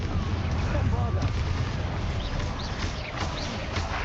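A Bombarda explosion spell goes off in the video game Hogwarts Legacy amid battle, as dense booming rumble and crackling impacts that fill the whole clip and mix with game sounds.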